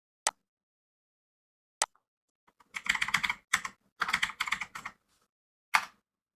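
Keys clicking on a computer keyboard, two isolated taps followed by quick bursts of close typing and a final single keystroke, with no voices.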